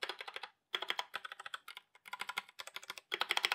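Rapid clacky typing on a Royal Kludge RK84 mechanical keyboard, close and crisp, in bursts of quick keystrokes separated by brief pauses, with no voices.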